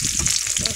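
Onions and green chillies dropped into hot oil for a tempering, crackling in a loud, dense sizzle that fills the short moment up close.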